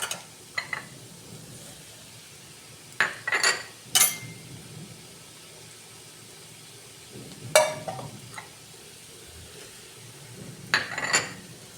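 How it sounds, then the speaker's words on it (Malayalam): Cooked pasta being stirred into mixed ingredients for a healthy pasta dish, heard as several short bursts of spoon scraping and clinking against the dish, separated by quiet pauses, fairly close and soft, with no talking. "എല്ലാം നല്ലോണം മിക്സ് ചെയ്തിട്ട് പിന്നെ പാസ്ത വേവിച്ച് വെച്ചത് അതിലേക്ക് ഇട്ട് കൊടുക്കാം."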